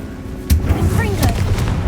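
A Bombarda blasting spell goes off in the Hogwarts Legacy video game, a short booming blast with rumbling debris and a second thud, loud and close, with a voice speaking over it.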